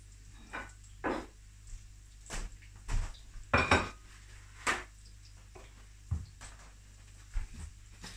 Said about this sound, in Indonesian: Saya ambil piring dulu.